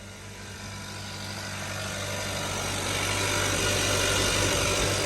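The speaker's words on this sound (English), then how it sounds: "So it is idling high. This is the first time I started it." A car bought at a dealer auction runs at a high idle after its first start in a long while, a steady broad engine drone with a low hum that grows slightly louder and holds without talk.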